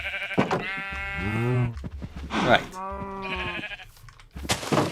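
Blocky Minecraft sheep bleat several times in drawn-out, wavering cries, close and loud, with a brief spoken word among them.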